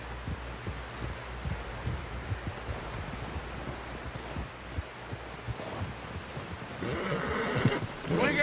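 Horse in Red Dead Redemption 2 clip-clops with low, steady hoof thuds and a snort, while brighter rustling and commotion swells near the end.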